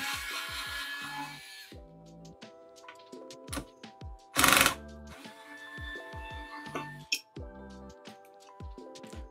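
A Phillips screwdriver backs out the screws holding an air cooler frame on a PC motherboard, giving repeated close squeaky turning sounds with small metallic clicks.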